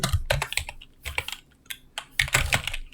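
Bursts of typing on a computer keyboard while entering text in a spreadsheet, quick clustered keystrokes close up with short pauses between runs.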